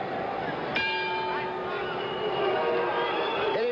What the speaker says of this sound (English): Hitting at the bell, Azevedo gets in his final licks, and Palomino gets ready for round number 7.